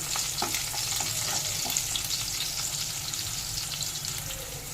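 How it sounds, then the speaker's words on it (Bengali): Black cumin seeds and slit green chillies sizzle in hot oil beside pushed-aside potatoes for a hilsa fish curry, a steady dense crackle with soft stirring scrapes throughout. "এখানে আলু সাইড করে কালো জিরে ফোড়ন দিয়ে দিলাম দুটো চেরা কাঁচা লঙ্কা। এবার সামান্য একটু এখানে নেড়ে নেব।"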